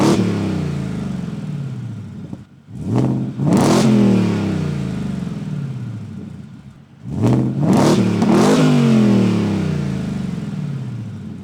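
2023 Ford F-150 Raptor R V8 engine revving, two loud, sharp throttle blips that rise and fall back to a deep burbling idle, close and alone.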